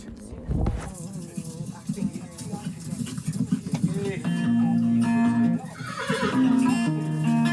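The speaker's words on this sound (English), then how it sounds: "Horsey." A farm horse neighing and whinnying loudly up close, with repeated drawn-out calls, especially in the second half, while a person talks over and between them.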